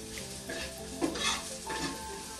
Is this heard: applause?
no